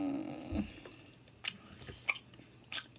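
Close, quiet chewing of Hot Cheetos poppers, with soft mouth sounds and a few sharp bites spread over a few seconds and no speech.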